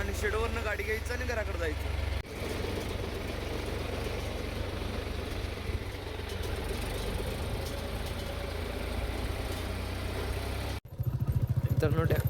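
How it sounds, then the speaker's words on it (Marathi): A tractor engine runs with a steady low drone while being driven to a farm shed, continuous and fairly close, with a brief dip near the end before it resumes. "आता ट्रॅक्टर घेऊन शेडवर जायचं आणि शेडवरनं गाडी घ्यायचं आणि घराकडे जायचं."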